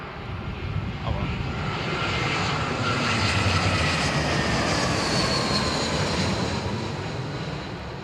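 Airplane landing at London Heathrow Airport in crosswind conditions, a loud sustained roar of jet engines and rushing air that swells in the middle, heard from nearby with no one talking.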